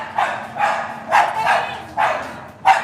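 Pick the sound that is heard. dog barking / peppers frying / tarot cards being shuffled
dog barking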